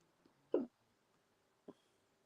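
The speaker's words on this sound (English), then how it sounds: "Get the hiccups just as I start." A person hiccups twice, a sharp abrupt one followed about a second later by a softer one, close and alone in a quiet room.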